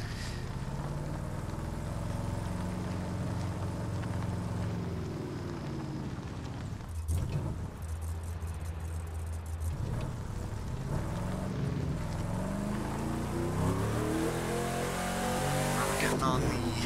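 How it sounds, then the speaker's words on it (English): A 1971 Chevrolet Camaro Z28 drives a road in Miami in The Crew 2, its engine droning and rising in pitch as it revs through the gears. The engine runs steadily and continuously throughout, with a brief dip partway through. "let's get it going on the road. We'll see how this car rides."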